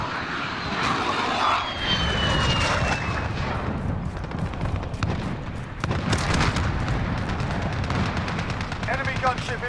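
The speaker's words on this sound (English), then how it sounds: "Enemy gunship inbound, take cover." Enemy gunship aircraft drone overhead in the game Modern Warfare, a loud sustained engine roar mixed with bursts of gunfire and explosions, while in-game voices call out warnings over the action.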